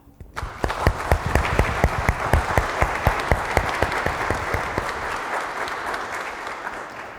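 A crowd claps steadily for several seconds, with a few louder individual claps standing out, before the applause gradually thins out.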